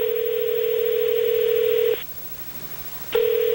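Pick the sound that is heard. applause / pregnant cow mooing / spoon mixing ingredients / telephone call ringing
telephone call ringing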